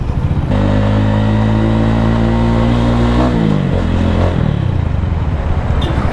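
A Titan 250 FI motorcycle engine runs loud and close while riding through town, holding a steady tone, then dropping in pitch and revving again as the rider shifts gears.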